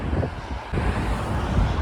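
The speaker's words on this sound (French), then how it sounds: "Et boum, le vent revient." Wind gusts batter a microphone outdoors in Dubai, a loud, continuous rumbling buffet with a brief dip before it surges back in full force, with no voices.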